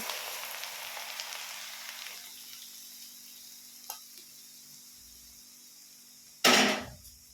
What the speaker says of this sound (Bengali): এর মধ্যে আমি ফুটন্ত তেল গরম দিলাম।